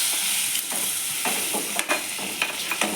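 Cut pieces stirred and tossed in a hot frying kadai with salt, a steady sizzle broken by repeated scraping, clattering strokes of the spoon, close and fairly loud with no talking.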